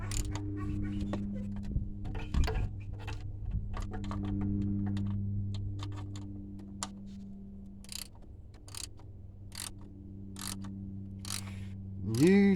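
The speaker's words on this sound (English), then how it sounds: "we take a ratchet, make sure you got it on the righty tighty" Ratchet clicking as it tightens a bolt on the aluminum water outlet of a 2011 Chevy Cruze 1.4, sharp close ticks in short irregular bursts over a low steady hum.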